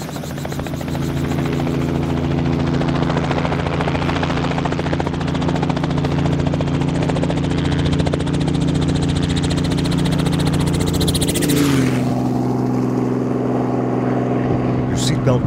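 A skydiving helicopter in San Diego runs loud and steady throughout, with droning rotor and engine tones that shift in pitch near the end.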